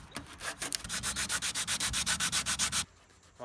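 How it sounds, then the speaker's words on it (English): A fiberglass Jeep Rubicon hardtop is sanded by hand in quick, even back-and-forth strokes, about twenty rhythmic rasps close up before stopping abruptly. "While he's over here sanding the hardtop"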